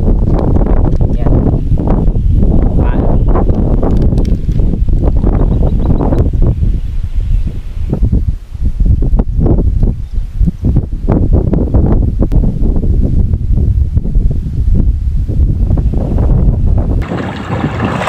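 Wind blowing along the Agno River during a solo motorcycle camping trip, a loud, continuous buffeting rush against the microphone lasting throughout, with gusty swells and no clear talk.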